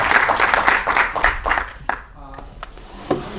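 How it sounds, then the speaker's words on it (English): A crowd at a filmmaker memorial for John Singleton gives a brief round of clapping that fades after a couple of seconds, with speech-like sounds following. "Round of applause."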